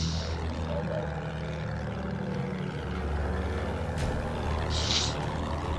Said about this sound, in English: I got an attack plane on me.